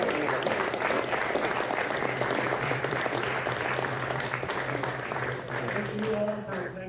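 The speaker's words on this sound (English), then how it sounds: "So please give them a round of applause." Loud, sustained audience applause at a mayoral candidate forum on cycling, dense clapping from a room full of people, with a voice speaking faintly underneath near the end.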